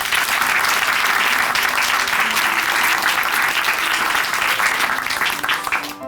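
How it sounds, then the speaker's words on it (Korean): Church congregation at Chuncheon Hanmaeum Church claps in encouragement during a Christian testimony program, a loud sustained round of applause from a crowded room that carries steadily and begins to fade at the very end. "힘내시라고 다시 한번 응원의 박수 보내드리겠습니다"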